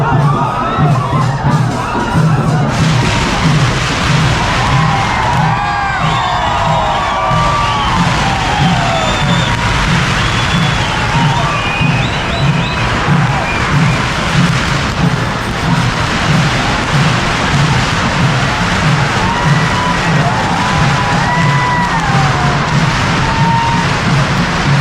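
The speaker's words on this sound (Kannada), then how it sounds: "ಕ್ರೌಡ್ ಮಾತ್ರ ಸಿಕ್ಕಾಪಟ್ಟೆ ಜನ ಇದ್ದಾರೆ," A huge crowd of fans cheers, whoops and yells at Santosh Theatre, a loud, continuous roar of many voices with children shouting, steady throughout.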